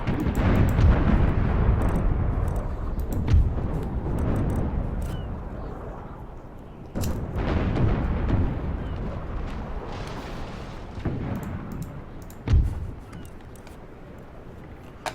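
Broadside cannon fire from a warship in a North Sea naval battle in Imperial Splendour, heard as rolling, deep booms that rumble on and fade, with fresh blasts near the middle and a sharp report toward the end.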